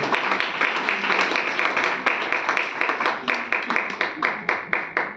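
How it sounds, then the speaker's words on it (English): Audience applause at a children's hospital eczema awareness event: a crowd claps in a loose rhythm that gradually settles into slower, more distinct claps near the end, fairly close and moderately loud, with no talk over it. "Better round of applause, ladies and gentlemen."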